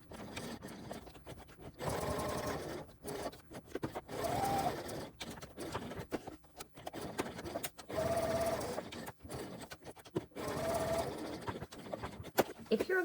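A sewing machine stitches in several separate bursts, running, pausing, then running again as a bag's connectors are backstitched and sewn all the way around, fairly quiet and close with short gaps between runs.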